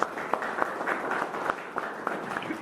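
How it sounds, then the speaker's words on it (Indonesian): Audience clapping at a youth and village development seminar, a brief spell of applause with scattered sharp claps, moderately loud and close. "Oke, boleh kasih tepuk tangan dulu."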